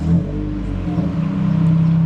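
A Honda Civic Type R FN2 with a K24 engine fires up with a deep, steady low rumble close by, holding an even idle tone throughout with no talk.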